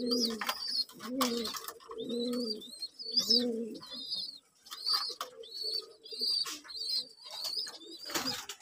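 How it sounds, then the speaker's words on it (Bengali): Teddy pigeons coo in repeated low, throaty phrases close by, roughly one coo per second, with faint high chirps from other birds in the background. "টেডি কবুতর"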